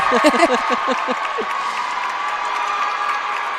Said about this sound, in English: Well, you get to be applauded twice on your entrance.